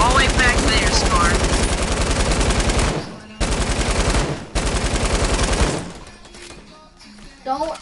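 Light machine gun in a video game firing sustained rapid bursts, loud and dense, with two short pauses before trailing off into quieter game sounds; voices talk faintly underneath.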